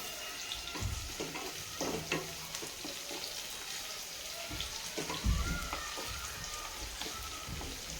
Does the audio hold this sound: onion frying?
yes